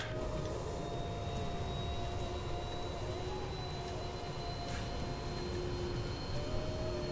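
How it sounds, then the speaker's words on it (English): Avro RJ100 jet engines in the Just Flight simulator hum with a steady, fairly faint drone and a thin high-pitched whine, unchanging and alone for the whole stretch. "the engine noises on this are absolutely phenomenal"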